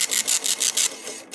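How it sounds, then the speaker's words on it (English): An EAS encoder/decoder's ribbon printer prints a report with a worn, faint ribbon, giving five rapid, rhythmic, raspy passes of the print head up close, then a quieter tail with a small click, no speech. "And we are printing a report."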